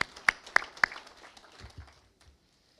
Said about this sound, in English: let's give our judge and his son a round of applause